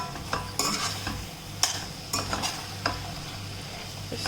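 Vegetables being stirred into a pot of millet biryani, with a spoon scraping and clinking against the pot in uneven strokes over a soft sizzle, close and fairly loud.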